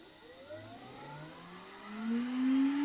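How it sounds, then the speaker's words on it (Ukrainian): A Berchtold Podo Q pedicure machine runs with its vacuum switched on, a close, quiet motor whir that steadily rises in pitch as it spins up, growing a little louder toward the end. "ручка працює тихесенько, ось демонструю, включив без пилососа. Ось з пилососом."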